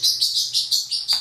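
A pet parrotlet named Ella gives a run of six bright, rapid chirps in steady rhythm, close and clear in a quiet room during cage cleaning.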